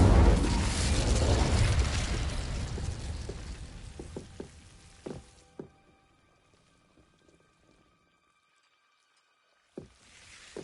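Incendio fire spell from the game Hogwarts Legacy, a loud rushing burst of flame that swells and then fades over several seconds, followed by a few sharp crackling pops and a faint tonal hum, with no voices.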